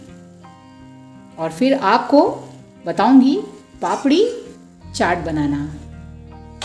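Papdi dough pieces deep-fry in hot oil with a steady low sizzle that runs beneath someone speaking in Hindi throughout.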